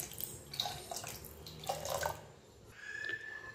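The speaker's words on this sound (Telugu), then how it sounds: "ఒక 1/2 గ్లాస్ వరకు వాటర్ యాడ్ చేశాను." Water is poured from a glass into cooked dal in a pressure cooker, giving uneven splashing and gurgling pours with short pauses, close and fairly quiet.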